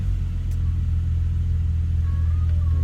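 The V6 engine of a 2008 Ford Mustang with an automatic transmission idles in reverse, making a steady low rumble with a faint whine joining near the end, continuous and unbroken, with no voices.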